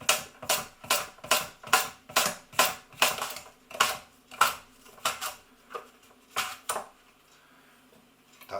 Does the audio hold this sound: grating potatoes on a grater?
yes